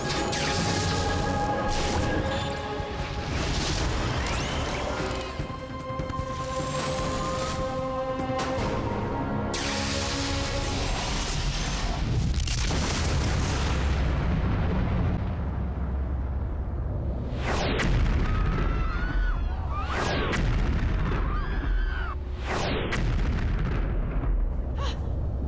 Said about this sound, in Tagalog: Ito yung mga pagsabog!